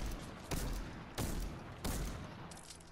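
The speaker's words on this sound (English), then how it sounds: "I'm getting shot at." Gunfire aimed at the player in a video game: three sharp shots cracking about half a second apart, each trailing off into a brief echo, heard alone with no talk.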